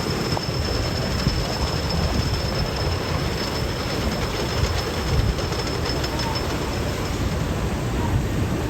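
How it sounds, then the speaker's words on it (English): A loud, steady rumbling roar of a Gravity Group wooden roller coaster train at Kentucky Kingdom, the Kentucky Flyer, rolling along its track, with continuous rattling and clatter throughout. "I'm looking forward to this Gravity Group wooden coaster."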